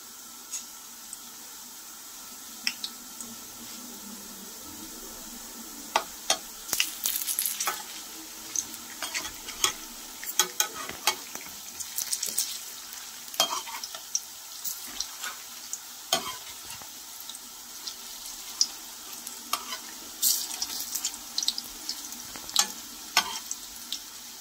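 Pholourie dough fries in hot oil over a medium flame, giving a soft, continuous sizzle with scattered clicks and scrapes of stirring, close and fairly quiet, with no talk.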